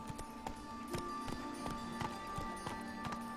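Roach the horse gallops in The Witcher 3, with rapid rhythmic hoofbeats running steadily under a soft game music drone.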